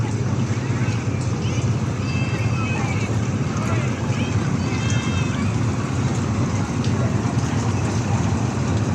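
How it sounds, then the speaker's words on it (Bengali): A passenger launch sets off on a haor in Sylhet, its steady engine drone mixed with water wash and wind buffeting the microphone, continuous and fairly loud throughout. "লঞ্চ যাত্রা শুরু করছে।"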